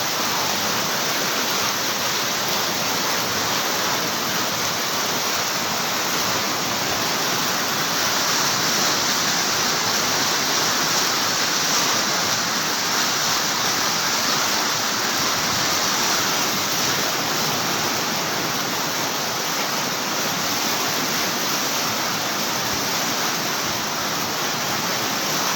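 Floodwater rushes through Bonbon, Libon, Albay, sweeping away shops, as a loud, unbroken roar of churning current that stays heavy and constant throughout.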